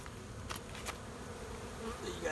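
Honeybees buzzing steadily around an opened hive box during a swarm catch, a constant insect hum close by with a few brief sharper sounds and no talking.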